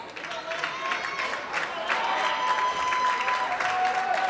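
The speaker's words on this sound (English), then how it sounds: "And this crowd's trying to get them back into it." A home crowd at a boys' varsity high school volleyball match cheers and applauds steadily and loudly throughout, with whistles and shouts rising above the broad roar.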